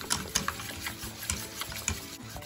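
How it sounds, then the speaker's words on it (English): Lumpia wrapper batter of flour, water and salt is whisked in a bowl, giving a quick run of light clicking and sloshing strokes close by. "So just get a whisk this together."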